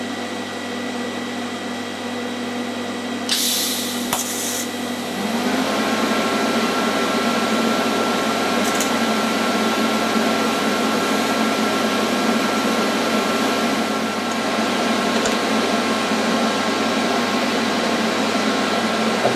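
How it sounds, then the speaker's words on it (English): TIG welder tack-welding metal parts by fusion without filler wire in a workshop, a steady electrical hum with sharp crackling bursts as each tack strikes, then a continuous buzzing drone. "I'm just going to put some tack welds on with a TIG welder."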